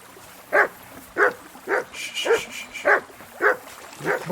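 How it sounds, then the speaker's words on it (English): A dog in the medieval video game Kingdom Come Deliverance 2 barks repeatedly, about seven sharp, evenly spaced barks at close range, with a brief whine between them. "What are you barking at?"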